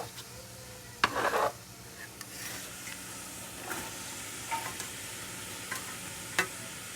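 Chopped vegetables for chili beans cook in a pot with a soft, steady sizzle, broken by a brief scrape of stirring near the start and a few faint clicks later.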